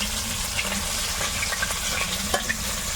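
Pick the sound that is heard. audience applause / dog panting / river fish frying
river fish frying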